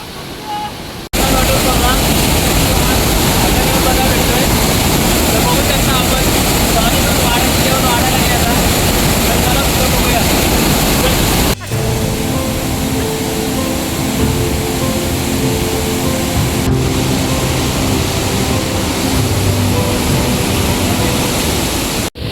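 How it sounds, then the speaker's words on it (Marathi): A waterfall in the Konkan region roars in a dense, loud, continuous rush of water that fills the whole scene, with no breaks apart from one brief dip partway through. "तर फायनली आपण आता धबधब्याजवळ पोचलो आहे."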